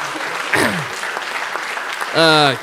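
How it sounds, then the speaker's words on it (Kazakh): Audience applause fills a stand-up comedy show, a steady wash of clapping from a crowd, with a voice speaking briefly near the start and over the final second. "Қаттырақ шапалақ, жалғастырамыз."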